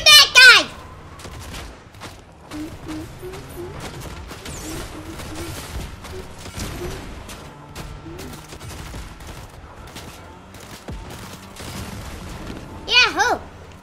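Gunfire in the video game Fortnite, bursts of rapid shots and scattered pops running through the scene under a child's excited speech, with loud vocal shouts at the start and end.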